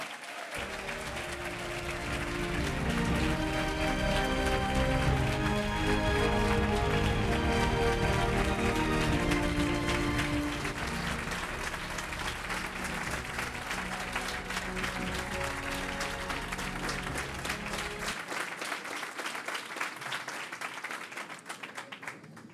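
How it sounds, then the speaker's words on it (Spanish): Loud, sustained applause from a crowd at a VOX political rally in Ceuta, greeting the party's candidate for president of the autonomous city; dense clapping swells for several seconds, holds steady, then cuts off near the end. "por favor, un enorme aplauso a nuestro próximo candidato"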